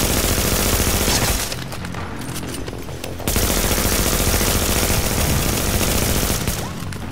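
An SMG in a video game fires sustained rapid bursts, loud and close, easing briefly in the middle before the automatic fire picks up again.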